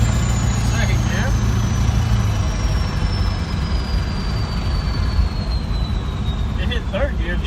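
A 7.3 Powerstroke diesel engine in a Bronco build roars loud and close, a steady heavy drone that shifts up through the gears as it accelerates, with a whining tone sliding downward across it.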